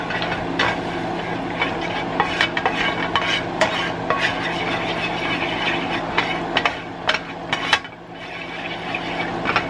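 Melting ingredients being mixed in a pan for a Hello Fresh meal: repeated clinking scrapes of a utensil against the pan over a steady low hum and faint sizzle, with sharp taps scattered throughout.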